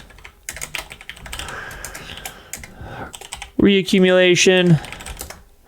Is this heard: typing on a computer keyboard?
yes